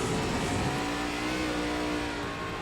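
An ARCA race car engine in iRacing at Lime Rock Park holds a steady, dense drone at half throttle cresting a hill, continuous and fairly loud with no talk over it.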